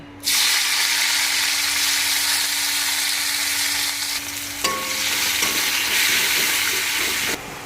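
Chopped onion and tomato frying in oil in a kadai on a gas stove, a loud steady sizzle close by with a low hum beneath and a brief clunk partway through, no voices.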